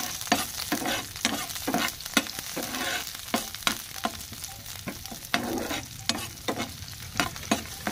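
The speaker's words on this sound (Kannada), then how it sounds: "ಇವಾಗ ಫ್ರೈ ಮಾಡ್ಕೊಳ್ಳೋಣ್ರಿ." Onions frying in very hot oil, a steady bright sizzle with repeated sharp scraping stirs of a spatula in the pan, close and alone with no talk.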